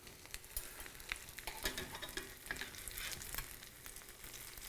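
Potato latkes fry in hot oil in a cast iron pan, giving a steady, fairly quiet sizzle and crackle with small pops and occasional spatula scrapes.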